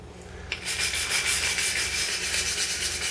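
A stiff brush loaded with Dawn dish soap scrubs a neglected whetstone (oil stone): after a brief pause, fast rhythmic bristle strokes rasp loudly and continuously up close.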